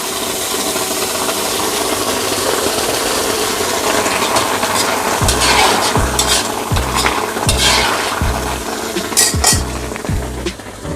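Hot water goes into a pan of catfish curry with potatoes and ridge gourd cooked without oil, raising a loud, steady sizzle over scraping spatula strokes and clanks against the pan.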